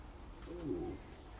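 Pigeons in a loft give a soft, low cooing call in the middle of a quiet stretch, with faint background hum and no voices.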